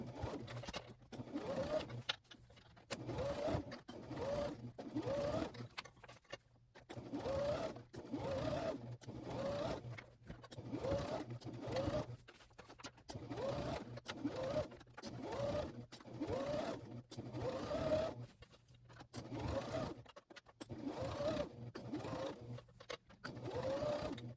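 A domestic sewing machine, not a semi-industrial one, stitches a dress in steady bursts with brief pauses between runs, a close, quiet, even mechanical whir with no talk.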